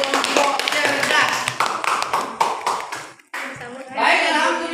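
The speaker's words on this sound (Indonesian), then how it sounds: "Tepuk tangan untuk kelompok cerdas." A 5th-grade class claps hands together in quick, rhythmic bursts of sharp nearby claps that stop abruptly, followed by brief talking.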